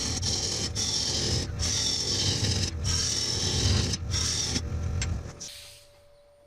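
A turning tool cuts deep inside a hollow wood form spinning on a lathe, giving a steady, close scraping hiss broken by brief gaps before the cutting stops and the tone fades.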